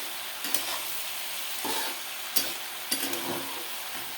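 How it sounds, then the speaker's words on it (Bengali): Vegetables with spices being stir-fried in a pan for a home-style Bengali curry: a dense, steady sizzle close by, with a few louder scraping stirs, and no one talking. "এই যা সবজিটাকে ভালো করে কষাবো।"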